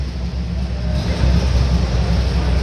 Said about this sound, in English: Kind of loud in here because all these cars are running.